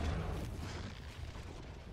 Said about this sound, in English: I would launch the lava bomb. I'm just gonna throw it anyway